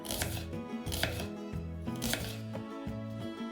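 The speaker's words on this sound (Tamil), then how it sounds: "இப்போ தாளிக்கிறதுக்கு சின்ன வெங்காயத்தை நீல வாக்கில் வெட்டி வச்சிடலாம்" A knife chops through shallots on a board in a quick, uneven series of sharp taps, close and fairly quiet, with no talking.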